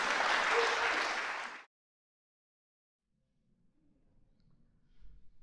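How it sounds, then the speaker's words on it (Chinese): Applause from a concert audience at a memorial concert swells briefly and then cuts off abruptly into silence, followed by faint low rumbling room noise. "让我们以最热烈的掌声来欢迎郑毅和郑董事长"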